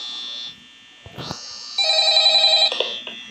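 Electronic phone ring in the Five Nights at Freddy's horror video game, a loud, close buzzing tone that stops and then returns in a longer ringing burst.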